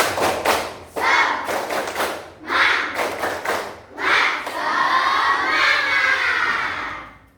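Indonesian primary school children shout a rhythmic clapping chant in bursts in class, with claps and thumps marking the beat, ending in a long sustained group cheer.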